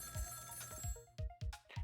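A telephone rings in the video game Ghost Trick: Phantom Detective, repeated electronic ringing bursts in a steady rhythm over game music, fairly quiet.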